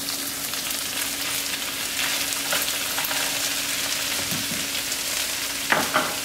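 Mushrooms and onions sizzle and fry steadily in a pan for a healthy pork chop dish, with a continuous close hiss and occasional louder crackles and stirring scrapes near the end.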